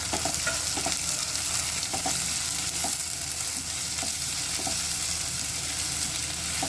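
Spring onion sizzles and crackles steadily in a hot pan as it is sautéed, with a constant frying hiss and occasional soft scrapes of stirring, close and even throughout with no voices.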